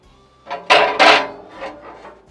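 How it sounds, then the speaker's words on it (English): Several short hissing bursts of oil sprayed onto the grates of a new Lone Star Grillz offset smoker, close by, two strong ones in the middle with fainter puffs before and after. "Spray them too."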